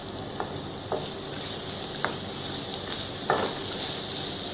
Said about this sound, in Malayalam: പച്ചമുളക് ഇടുക, അരിഞ്ഞു വച്ചിരിക്കുന്ന ഉള്ളി ഇടുക, നല്ലതായിട്ട് ഇളക്കിക്കൊണ്ടിരിക്കുക.